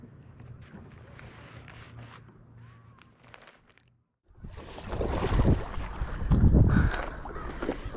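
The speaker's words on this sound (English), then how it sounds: "Wind picked up out of nowhere" Wind sweeps across a lake around someone on an inflatable stand-up paddleboard, light at first, then dropping off before a loud rushing gust buffets in strongly and holds for the rest of the clip.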